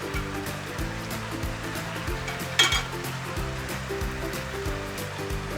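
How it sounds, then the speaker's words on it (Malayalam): Masala-stuffed brinjal hits hot oil and fries with a steady sizzle and crackle, alongside a repeating mechanical hum and one sharp spattering burst midway. "നമ്മൾ മസാല നിറച്ച് വെച്ചേക്കുന്ന വഴുതനങ്ങ ഓരോന്നായിട്ടിടാം"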